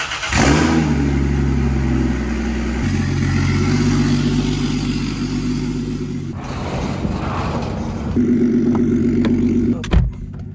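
A turbocharged Lexus IS300 out on its first drive. The engine is loud and close, rumbling and revving in surges with a few sharp drops and a final abrupt cutoff.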